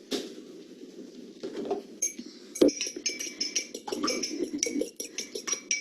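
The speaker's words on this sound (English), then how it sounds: "gonna whisk the egg with the oil briefly and then add it" A whisk beats an egg with canola oil in a bowl, giving quick, uneven metallic clinks and taps against the sides in short bursts, close and fairly clear.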